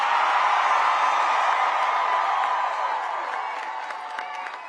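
A large crowd at a Virginia political rally with Abigail Spanberger and Obama applauds and cheers loudly, sustained clapping and whoops that slowly fade over several seconds.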